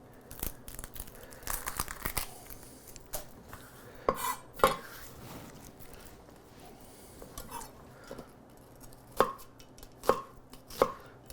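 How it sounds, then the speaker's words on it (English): A freshly sharpened knife chops through half an onion on a cutting board, giving a handful of soft, irregular thuds spaced several seconds apart against a quiet kitchen background. "I just had this knife sharpened, and it's really, really sharp and nice. It's just going through everything like butter."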